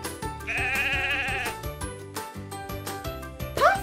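Sheep bleating in a wavering, drawn-out call about half a second long, set over a bouncy children's music track with steady percussion, fairly close and clear.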